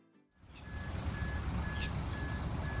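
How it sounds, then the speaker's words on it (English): A truck reversing beneath a sailing catamaran on a hardstand during a haul-out, with a loud repeating reverse beeper sounding at steady intervals over a heavy diesel engine rumble, close by and without talk. "I'm just watching Kevin manoeuvre the truck below the boat"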